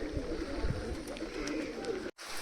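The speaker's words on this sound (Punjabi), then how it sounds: "ਕਬੂਤਰ ਆਪਣੇ ਸਾਰੇ ਫਿਰਦੇ ਨੇ" Pigeons coo softly against a steady wash of background noise, low repeated calls close by.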